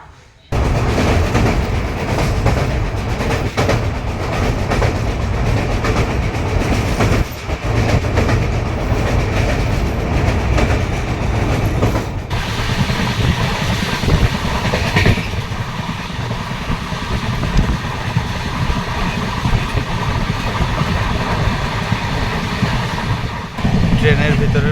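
Inside a crowded moving passenger train bound for the Kumbh Mela in Prayagraj, a loud, steady rumble of wheels and carriage rattle runs continuously, with occasional clicks and passing surges and a faint background of voices.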